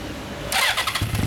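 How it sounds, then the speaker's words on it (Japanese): A 1983 Yamaha XJ400Z motorcycle fitted with a Yamamoto Racing exhaust starts up, a brief cranking burst that catches into a low, pulsing idle, close and fairly loud. "エンジン音聞かせてもらえますか？"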